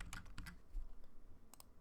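Keys on a computer keyboard click in quick irregular bursts of close, crisp taps, with a short pause between clusters and no speech.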